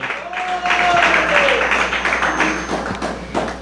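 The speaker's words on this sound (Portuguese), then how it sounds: "Pode bater palmas para o nosso Senhor." A church congregation claps hands for a steady stretch, a dense patter of claps with a held tone and some voices mixed in beneath it.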